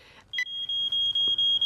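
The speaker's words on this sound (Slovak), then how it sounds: "Chcem skontrolovať alarm." A smoke alarm being tested in a Fireman Sam cartoon lets out a shrill, steady electronic tone that pulses in rapid repeated beeps, loud and close.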